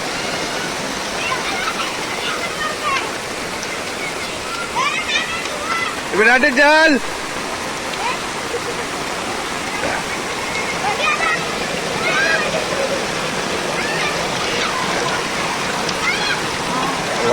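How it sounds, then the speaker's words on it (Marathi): Small waterfalls and streams rush during heavy Konkan monsoon rain, a constant broad roar of flowing water close by, with someone speaking over it and a short tonal chirp standing out midway. "बघा छोटे छोटे धबधबे आमचे"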